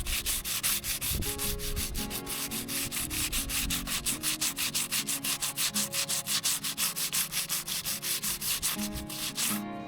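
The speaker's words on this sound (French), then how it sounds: "Donc c'est parti, je ponce" Steady hand sanding of a boat deck before painting, even back-and-forth rasping strokes in a quick regular rhythm, close and continuous with no voices.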